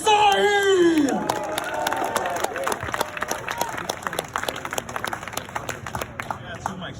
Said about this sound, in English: Give a round of applause to Sohi!